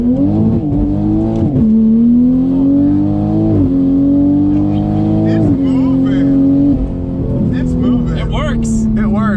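A big-turbo 2020 Toyota Supra strains on a dyno, its engine note climbing loud and steady through several gears with sharp drops at each shift, voices talking faintly underneath.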